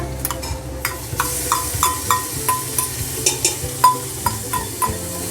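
Ginger stir-fried with garlic in a pan for Punjabi aloo matar: a steady sizzle under brisk, rhythmic spatula scrapes and taps against the pan, close and clear.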